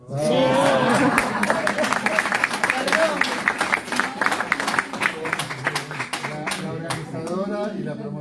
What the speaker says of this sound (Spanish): Un aplauso para la cantante,